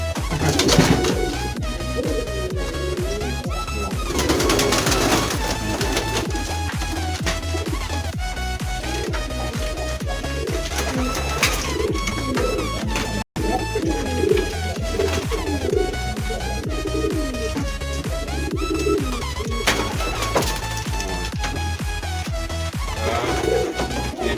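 Pigeons coo in a long, dense chorus of overlapping low, throaty calls, steady and close throughout with occasional shuffling and no speech.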